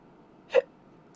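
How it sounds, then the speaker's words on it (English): A single short hiccup from a woman, close and fairly soft, standing alone over a faint background hum. "Sorry, I've got hiccups."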